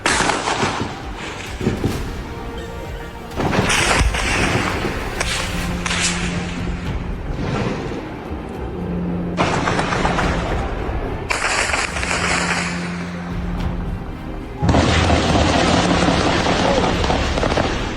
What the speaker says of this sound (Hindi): फायरिंग और गोलाबारी सुबह तक ऐसे ही चलती रही